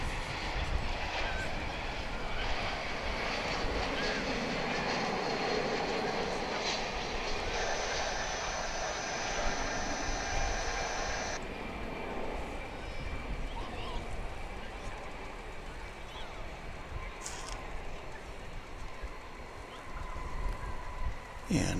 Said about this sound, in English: And it appears to be making a nominal touchdown.